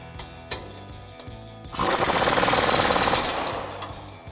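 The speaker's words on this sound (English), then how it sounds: "So now we'll go ahead and tighten this back down with our 19mm socket and 19mm wrench." A bolt on a Toyota Tacoma lift-kit suspension is tightened with a 19mm socket and wrench: a few light clicks, then a loud, steady rattling burst of about two seconds that trails off, with more faint clicks after.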